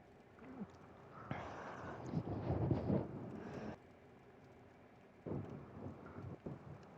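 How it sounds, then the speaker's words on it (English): A simulated thunderstorm in a Hunger Games Simulator arena: rain hisses steadily while two long rolling rumbles of thunder swell and fade, the first heavy and sustained, the second shorter. "The final day begins with thunder."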